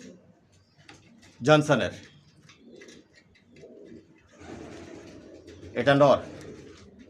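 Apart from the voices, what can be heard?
racer pigeons cooing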